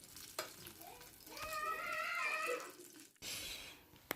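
Banana fritters frying in hot oil give a steady close sizzle and bubbling, with a brief sharper clatter near the start and a burst of louder spitting toward the end; no one speaks.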